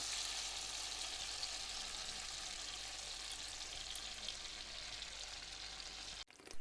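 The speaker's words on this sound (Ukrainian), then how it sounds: "Для заливки розтоплюємо масло, додаємо кетчуп." Butter melting with ketchup in a pan gives off a steady, dense sizzle and frying crackle, close and continuous, with a brief clatter near the end, no voices.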